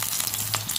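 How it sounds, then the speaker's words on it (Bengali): Soybean chunks fry in oil in a kadai over a gas flame with a continuous close sizzle and a few faint crackles and stirring sounds. "গ্যাসটা তাহলে কড়াটা বসিয়ে দিয়েছি, এর মধ্যে তেল দিয়ে দেবো আর আমি সোয়াবিনটা ভেজে নেব।"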